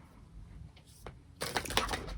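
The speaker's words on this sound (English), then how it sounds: "Let's keep shuffling." Tarot cards are shuffled in a quick riffling burst that starts suddenly partway through and continues close and fairly loud, preceded by quieter handling noises.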